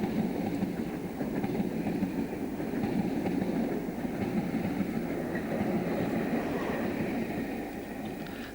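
A southbound passenger train bound for Euston runs past, a continuous rumble of wheels and engine with a soft rhythmic clatter, moderately distant and steady, with no voices.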